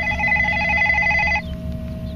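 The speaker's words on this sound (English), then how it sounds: "I had to kill that phone call." A telephone gives a steady electronic ring close by, outdoors in a local park, then cuts off abruptly partway through, leaving a low background hum with no voices.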